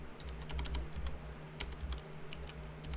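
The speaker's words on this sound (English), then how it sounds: "I cannot type. It's been a week and I can't type." Typing on a computer keyboard, a steady run of fast, close key clicks with irregular rhythm over a low background hum, no voices.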